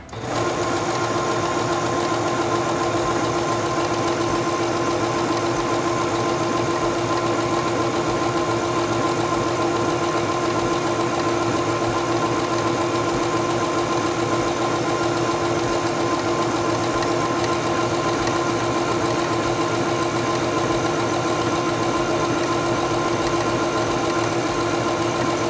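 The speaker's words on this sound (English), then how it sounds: "Stop sewing once you've reached the end." A SINGER Stylist 7258 sewing machine stitches through fabric with a steady, close mechanical whir that runs unbroken at an even pace throughout, with no voices over it.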